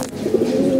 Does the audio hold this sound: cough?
no